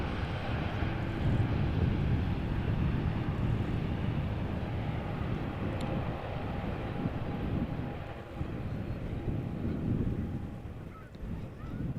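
An eight-year-old Boeing 787 Dreamliner at Amsterdam Schiphol, heard as a loud, broad jet engine roar that holds steady for most of the time and eases slightly near the end.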